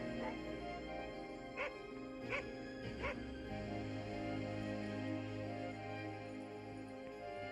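A dog barks and yips in the Antarctic, a few sharp calls in quick succession at moderate distance over a steady wind-like drone, then the barking stops while the low background continues.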